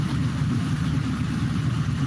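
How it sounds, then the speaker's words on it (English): Truck engine droning steadily while driving, a continuous low rumble with road noise and no change in pitch, heard from inside the cab. "it's hearing the noise from the truck and it's shutting it off"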